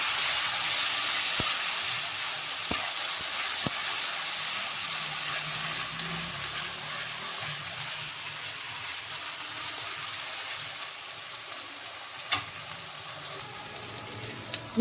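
Onion paste sizzles in a pan for a village-style Bangladeshi country chicken curry, making a loud, continuous close hiss with a few faint clicks.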